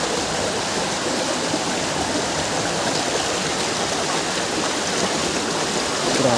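Clear mountain stream water rushes steadily on a wet, slippery trail, a dense continuous close-up splashing with no voices.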